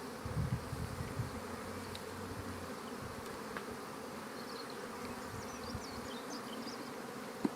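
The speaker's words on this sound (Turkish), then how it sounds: "Karnıyol arısı" A steady, low drone of many Carniolan honey bees buzzing at a hive during spring inspection fills the air, constant and close, with no voices.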